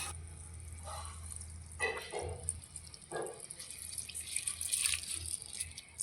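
Cut pieces of young green jackfruit being rinsed under water, with running and dripping water and soft splashes of handling, steady throughout at close range.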